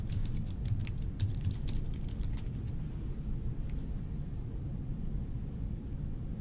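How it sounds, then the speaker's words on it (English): Someone types on a computer keyboard, a quick burst of faint clicking keystrokes over the first two and a half seconds, then only a quiet low room hum. "she finishes what she was typing in"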